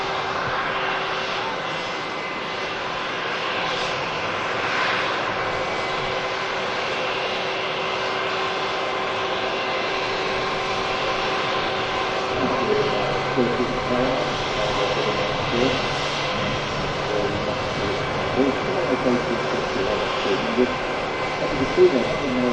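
A Turkish Airlines Airbus A321 with IAE engines in Star Alliance livery, its steady jet engine roar loud and sustained, heard near an airport at Manchester, with a person talking over it.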